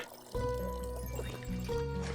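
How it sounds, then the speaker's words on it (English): Liquid pours steadily in the cozy tavern video game Tavern Talk, a continuous filling gurgle with a soft musical tone held underneath and a brief dip midway. "Maybe I need to pour that out."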